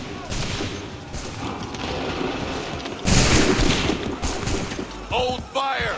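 Musket volleys crack out in Assassin's Creed 3, a long rolling spread of shots followed by a second loud burst, with shouted voices near the end.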